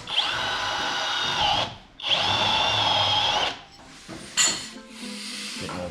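Power drill with a stepper bit boring a hole, two sustained whining bursts of drilling separated by a brief pause, followed by scraping and a short sharp squeal.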